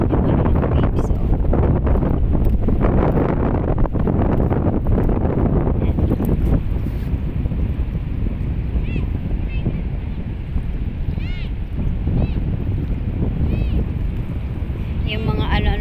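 Sea waves wash along the shore under gusty wind, a dense rushing roar with heavy wind buffeting on the microphone that eases a little midway, and faint high squeaks later on.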